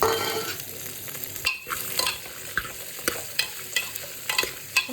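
Onion, cut vegetables and ground spice paste are stirred in a hot pan for a white kurma, with a low frying sizzle broken by repeated close scraping and clattering stir strokes.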